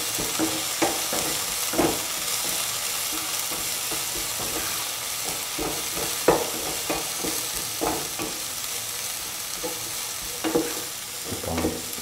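Dry shrimp sautéing with garlic and onions for a green mango stew, sizzling steadily in the pan with repeated spoon stirs and scrapes, close and fairly loud, no talking.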